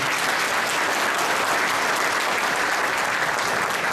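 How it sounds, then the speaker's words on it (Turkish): Sustained applause from an audience at a party congress, dense and steady throughout with no voices standing out. "kuvvetli bir alkış istiyorum lütfen"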